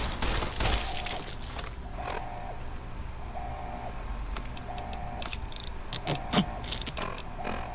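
Gunfire in the Fallout New California video game, a burst of sharp cracks and rapid shots at the start, followed by scattered, irregular shots and clatter over a droning game ambience.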